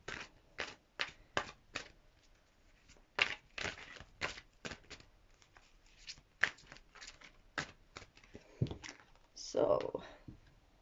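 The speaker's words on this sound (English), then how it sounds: "we're just going to give the cards a quick shuffle" Tarot cards are riffled and shuffled in quick crisp bursts, close and clear, with short pauses between the runs of shuffling.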